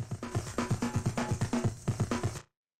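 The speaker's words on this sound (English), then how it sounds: "which is a saturator here, which sounds like this." A drum break pushed through a saturator for club-style music, punchy kicks and snares in a steady driving groove, thick and crunchy, playing alone before cutting off abruptly.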